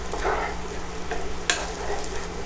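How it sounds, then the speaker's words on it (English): Chopped scallions and garlic sizzle steadily in a hot pan while being stirred, a close, continuous frying crackle with soft scraping of the spoon and no talking. "after a minute of stirring this up"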